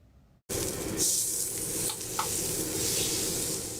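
Steady broadband sizzling of food cooking on a hot surface, continuous and close, with a few small pops and scrapes and no talking.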